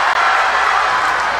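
A crowd roars steadily and loudly throughout a short stretch at a basketball finals game between Windsor and Williamstown in an auditorium.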